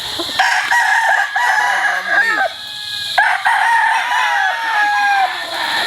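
A Harold Brown Gray straight comb gamefowl rooster crows loudly and close, with overlapping crows and clucks from other fowl nearby.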